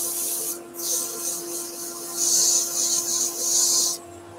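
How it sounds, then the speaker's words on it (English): Wood being hand-sanded with sandpaper on a glued-up Christmas centrepiece, a steady rasping scrub in close strokes that swells and fades in bursts, with a short pause early on. "I'm going to re-sand the bottom anyway"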